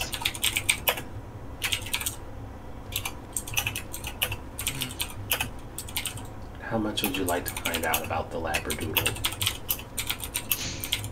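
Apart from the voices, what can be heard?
aggressive computer keyboard key clicking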